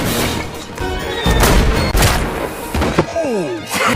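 Gunfire from a long shootout scene in an action film: loud, dense bursts of shots and heavy thuds follow one another with little pause, and falling whistling tones near the end.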